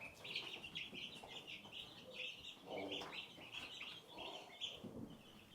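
Young turkeys chirp and peep among two- to three-week-old layer chicks, a steady stream of faint high cheeping with occasional soft clucks, fairly quiet and unbroken by talk.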